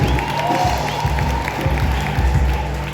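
Applause from a church congregation during a service, a steady continuous patter of many hands clapping, fairly loud and even throughout with no voices standing out.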